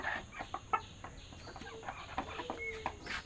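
Elba chickens in a small coop cluck in short, irregular bursts, close and moderately loud, with one rooster among four hens at about four months old; no one speaks.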